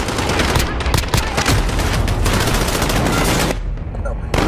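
Dense automatic gunfire from Call of Duty Modern Warfare, rapid overlapping bursts and shots sustained loudly and close, cutting out briefly near the end before another burst.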